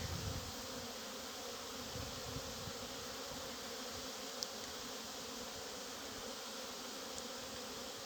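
Bees hum around beehives outdoors on a cool, breezy day, a faint continuous buzzing drone with no voices, steady throughout with a couple of tiny clicks.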